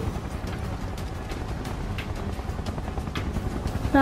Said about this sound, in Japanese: ヘリが降りてきたよ。